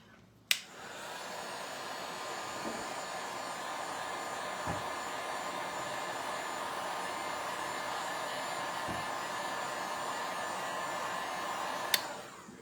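A heat tool blows a steady, even whoosh for about eleven seconds while drying paint on a patriotic craft tag, starting and stopping with sharp clicks of the switch, close and fairly loud, with faint taps underneath.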